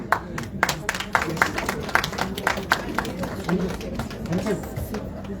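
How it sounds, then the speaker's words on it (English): Audience applause at a live show event, scattered claps rising over crowd chatter and background speech, moderately loud throughout. "Give them an applause."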